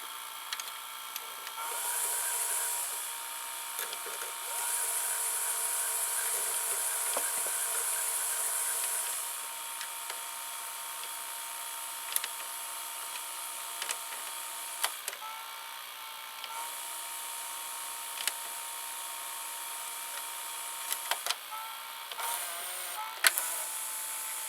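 The capstan motor of an Emerson VCR872 VCR runs with a steady mechanical whir and hiss. The level rises for a few seconds in the middle, and small clicks and ticks sound near the end.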